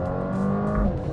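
Mercedes A35 AMG with 306 horsepower in Sport Plus mode doing a Race Start launch control getaway, a loud sustained engine roar rising under hard acceleration, heard close from inside the car with no talk.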